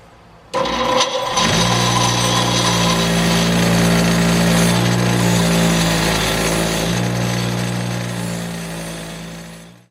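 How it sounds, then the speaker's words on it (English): Motorized wire brush scouring forged railroad spike hooks in a metal shop, a loud steady whirring grind that starts abruptly and runs continuously near the mic with rough scraping texture throughout. "I'm going to just wire brush them real good."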